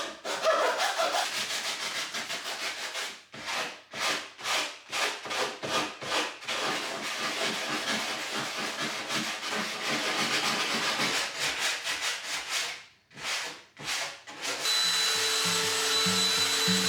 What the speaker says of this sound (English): I'm just gonna use my handsaw and then sand it down